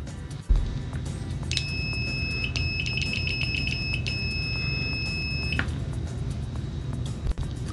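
A Neoteck NT8233D Pro multimeter sounds its continuity beeper at full volume, a steady high-pitched tone lasting about four seconds, close up over a low background hum, with a few clicks at the start and end.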